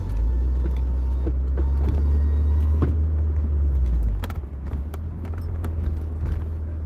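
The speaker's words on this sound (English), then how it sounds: "I thought that car was going keep on" A car's deep engine rumble sits close and loud for several seconds, then drops away as the car moves off, leaving quieter road noise scattered with a few sharp clicks.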